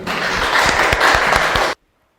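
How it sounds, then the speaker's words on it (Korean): Audience members at a school forum give a short round of applause, close and fairly loud with a few distinct claps, ending abruptly after less than two seconds into silence. "박수 한번."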